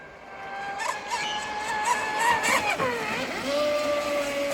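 A Supersonicwake RC boat on 10S with a TP 880 kV motor, ZTW 300 amp G2 controller, 5514 CNC prop and quarter-inch flex cable gives off a steady high electric whine that swells, dips and sweeps in pitch near the end.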